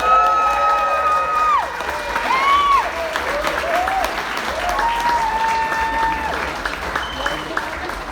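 Sustained audience applause at the SJU Gala 2020 welcoming Mr. Jacobson, a full room clapping steadily for about eight seconds with scattered cheers and a few voices over it.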